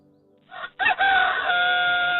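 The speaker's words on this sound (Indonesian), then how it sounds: "Ayam berkokok." A rooster crows once, loud and close, a long drawn-out cock-a-doodle-doo rising after a brief lead-in and holding to the end.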